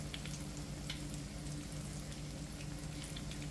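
Slices of green plantain fry in oil over medium heat, producing a soft, continuous crackling sizzle with small pops, low and steady throughout a quiet kitchen with no talking.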